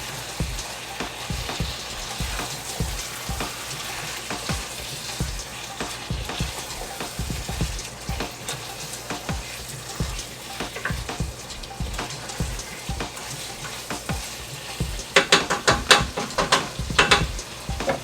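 A thick mixture for a Pakistani dish is stirred and folded together in a hot pan, giving a steady sizzle with soft scraping strokes throughout and a louder burst of spatter and clatter near the end.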